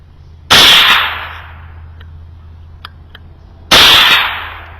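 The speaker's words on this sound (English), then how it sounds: "These were my final 3 shots, getting my zero verified with the Barnes VOR-TX ammunition" Two rifle shots at an outdoor range firing Barnes VOR-TX ammunition, each a loud, sharp crack with a short echoing tail, spaced about three seconds apart, with faint clicks between them.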